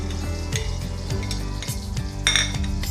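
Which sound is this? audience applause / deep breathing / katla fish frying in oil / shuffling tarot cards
katla fish frying in oil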